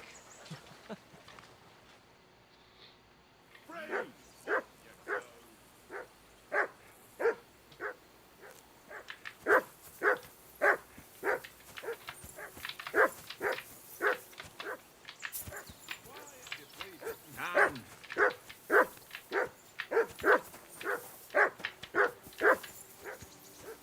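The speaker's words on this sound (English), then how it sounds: "I assume you can hear that damn dog of yours barking." Dog in the video game Kingdom Come: Deliverance II barks over and over in a steady series of loud, sharp barks near the listener, with voices speaking at times between them.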